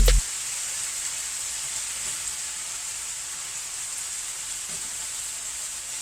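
Potatoes and onions frying in a pan, a continuous even sizzle and hiss held close and steady, opening with a brief clatter.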